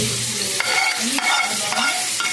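Hot oil tempering meeting red chilli pickle gives a crackling sizzle, with a spoon stirring and scraping through the mixture in repeated strokes, close and fairly loud with no voices.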